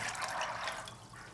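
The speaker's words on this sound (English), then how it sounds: "So I'm going to add some water here." Water pours into a large pot of soaked soybeans, a brief close splashing rush that eases off near the end.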